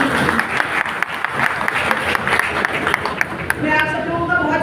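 Audience applauding steadily at a bar association oath ceremony for advocates, a dense wash of many hands clapping throughout, fairly loud and close.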